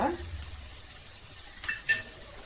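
Spices, including turmeric powder, fry in a pan with a low continuous sizzle. A few brief utensil scrapes and clinks are heard near the end.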